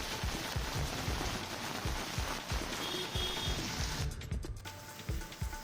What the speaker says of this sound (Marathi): कडेपठार मंदिराच्या पायरीवरून वाहणारं पावसाचं पाणी सोशल मीडियावर व्हायरल झालं